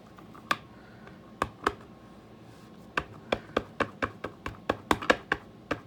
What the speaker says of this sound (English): So for the background, I'm going to stamp off before I stamp these trees onto my card.